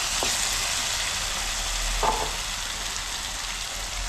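Pieces of dabba citron frying in a pan, a steady, close hiss and sizzle of hot oil with a couple of faint clinks.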